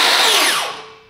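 A Mafell KSS60 cordless crosscut saw spins down after running, a loud close whine that falls steadily in pitch and fades over about a second.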